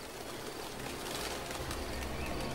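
Pigeons coo near a tower in a western film, a soft, steady murmur of cooing set against a broad, continuous outdoor ambience with no one speaking.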